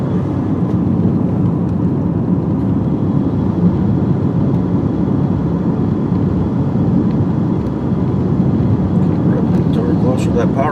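A vehicle engine drones loud and close after a downshift, a dense steady roar with no clear breaks across the whole stretch.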